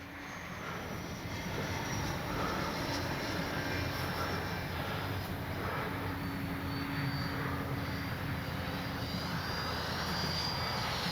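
A Flyfans Baltic Bees 64mm electric ducted-fan L-39 RC jet on its maiden flight, giving a steady, continuous whooshing whine at about half throttle, holding even and fairly loud throughout with no talk.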